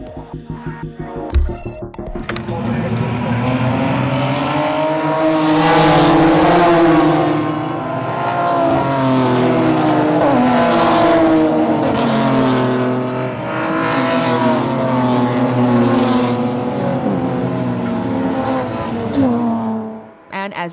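BMW race cars roar around a circuit at sunset, a loud, sustained engine drone that swells as they accelerate and pass, with gear changes and overlapping engines throughout.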